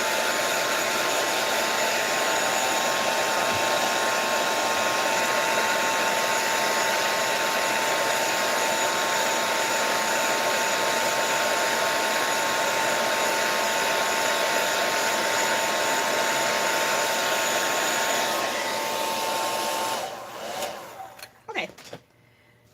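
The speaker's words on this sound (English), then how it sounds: "Hopefully my blow dryer is hooked up." A hair dryer drying ink on a mixed media art piece blows as a loud, steady whirring drone for about twenty seconds, then clicks off and leaves brief handling noises.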